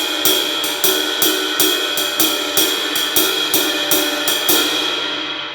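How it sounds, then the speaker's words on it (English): Ride cymbal on a drum set plays an Afro-Cuban 12/8 pattern, bright, sustained pings in a steady lilting triplet-based rhythm with accented strokes, played alone and close up with a continuous shimmering wash. "We're going to start off on the ride cymbal."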